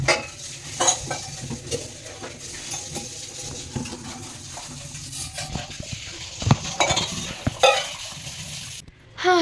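Spoons and assorted cutlery clink and clatter while being washed in a home kitchen during deep cleaning, a steady jumble of metallic taps and scrapes with water noise, no talking.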